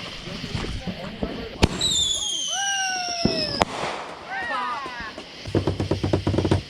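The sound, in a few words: fireworks being set off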